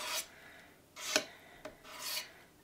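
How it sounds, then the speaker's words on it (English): A spatula drags paste back and forth across cardstock through a stencil for a mixed media card, making three dry, raspy scraping strokes with short pauses between them, close and fairly quiet. "I'm just going to start by taking my spatula and spreading it backwards and forwards"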